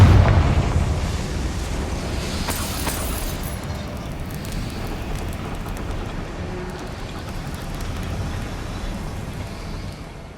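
A Confringo fire spell explodes in Hogwarts Legacy, a loud blast at the start followed by a sustained roaring, crackling rumble that slowly fades over about ten seconds, with a second sharp burst partway through.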